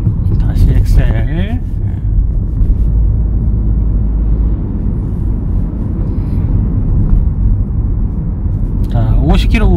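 Car accelerating on a driving-test road course in Ansan: a steady, loud low engine rumble runs throughout, with a brief voice near the start and again at the end.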